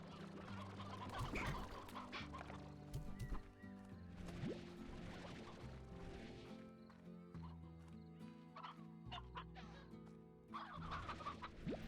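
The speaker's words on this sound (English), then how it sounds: "I hear chickens, there's chickens nearby" Chickens cluck repeatedly on a ranch in a video game, moderately close and mixed into a busy layer of game music and ambient sound, with occasional horse-like whinnies and hoof clops.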